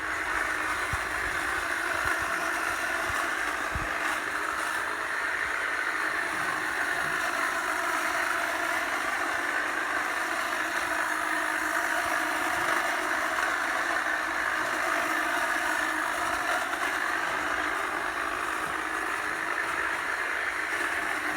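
An electric hedge trimmer trims the top of a porch hedge with a steady, even buzz that holds at a constant level throughout, close by and uninterrupted, with no one talking.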